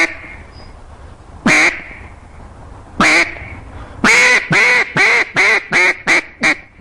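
A duck call blows a competition routine of loud, nasal hen quacks: two isolated calls, then a rapid run of six or seven quacks with a falling cadence, close and clear with no talking.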